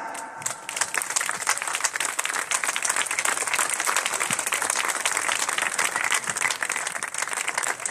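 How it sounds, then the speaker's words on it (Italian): Crowd applause at a memorial ceremony for the fallen, dense sustained clapping from many people throughout, loud and steady. "facciamo un forte applauso"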